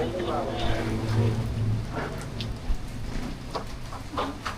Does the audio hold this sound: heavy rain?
yes